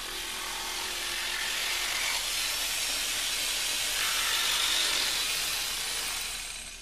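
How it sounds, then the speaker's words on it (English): Steady, loud buzzing hiss of a jigsaw cutting down the length of a wooden floorboard, running continuously for several seconds before easing off. "Then with the jigsaw, cut down the length of the board."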